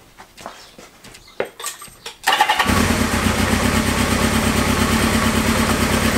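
After a few seconds of quiet clatter and handling noise, a Kawasaki KZ650 motorcycle engine with freshly set-up, synchronised carburettors fires and settles into a loud, steady, close idle that runs to the end.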